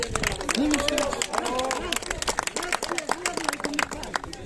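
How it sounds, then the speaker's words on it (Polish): Spectators clap and cheer for a woman runner at an outdoor eco-run race in the San valley at Ulucz, scattered close claps under loud excited voices and crowd chatter. "Wielkie brawa dla pani!"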